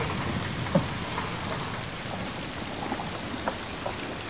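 Steady rain falls in a dense, even hiss of drops hitting surfaces, close and continuous with a few slightly sharper splashes and no voices.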